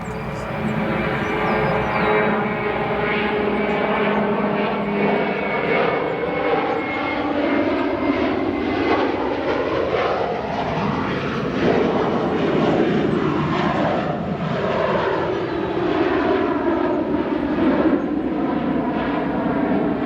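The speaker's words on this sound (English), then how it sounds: "looks like we have another aircraft also departing 28 right. This one, an Airbus 320 headed to Portland, Oregon." A 27-year-old Airbus A320 departs runway 28 right at Chicago O'Hare, its jet engines roaring loud and steady throughout with a sweeping, shifting tone as it climbs away.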